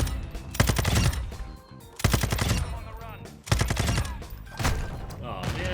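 Automatic gunfire from the video game Modern Warfare 2 rips out in several loud, close bursts of rapid shots, each lasting about a second or more, with short gaps between them.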